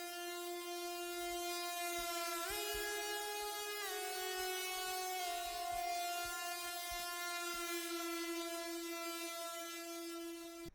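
A bright, sustained saw-wave lead synth patch built in Serum, modeled on the intro lead of a track, gliding smoothly between notes with rich buzzing harmonics, loud and continuous with no voices.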